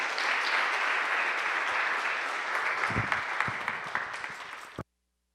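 A church congregation applauds in steady, dense clapping that holds for nearly five seconds and then cuts off abruptly into silence.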